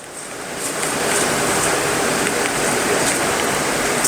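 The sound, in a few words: water flushing out of a poultry drinker pipeline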